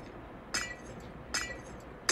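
Glass is struck in Minecraft, producing three sharp, bright clinks spaced roughly evenly apart, close and moderately loud against a quiet background with no talking.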